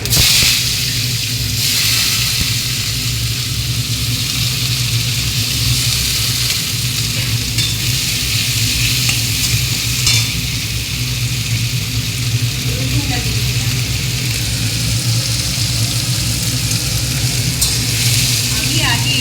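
Whole cardamom, cloves and cinnamon, followed by onions, sizzle steadily in hot oil in a pan for a mutton curry, with stirring throughout. The frying is loud and continuous, with faint background noise beneath it.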